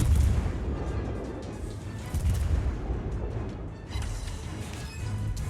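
A cruiser's main battery fires an AP salvo in World of Warships, deep booming gunfire and rumbling impacts in a few heavy surges, loud and close with no voice over it.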